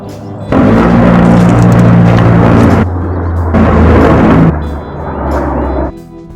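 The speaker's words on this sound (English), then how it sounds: "AC 130 gunship coming in hot." Simulated AC-130 gunship attack blasts sound as loud, sustained booming explosions with heavy low rumble, alternating in roughly second-long bursts and dropping off near the end.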